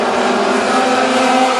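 WISSOTA modified race cars roar around the Granite City Speedway, a dense, steady engine drone at close range with no pause or break across the moment.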